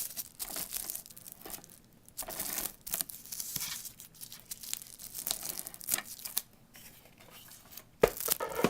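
Bubble wrap paper being handled and torn, with adhesive applied to its back while making a gift box: steady close crinkling and tearing rustles in uneven bursts, with a sharper snap near the end.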